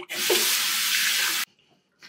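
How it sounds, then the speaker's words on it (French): Cold tap water runs steadily into a sink for about a second and a half during a winter evening skincare routine, a face rinse after foaming cleanser, then stops, followed by a few faint drips and small splashes. "Malgré que c'est l'hiver, je rince à l'eau froide un maximum."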